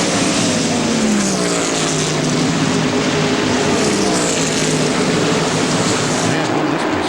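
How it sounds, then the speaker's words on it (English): Stock race cars roar past in a pack at the 1995 Purolator 500 in Atlanta, a loud continuous engine drone filling the whole stretch with steady pitch sweeps as cars pass. "Car going down the straightaway here with a lot of smoke is Steve Grissom"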